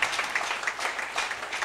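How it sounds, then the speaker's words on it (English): A church congregation clapping their hands together during a sermon, a dense, steady burst of applause that fills the space and carries on without pause. "Clap the hand kama unanipata kwa jina la Yesu Kristo"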